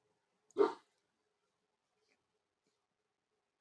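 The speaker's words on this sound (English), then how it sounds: "he gives one bark and then a gruff" A dog in a home gives a single short bark, close and clear, followed by near silence.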